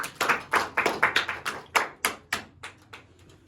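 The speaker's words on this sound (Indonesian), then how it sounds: "Tepuk tangan untuk Mbak Sania." A classroom group claps together in a quick, rhythmic run of about a dozen sharp, close hand claps that thin out and soften toward the end.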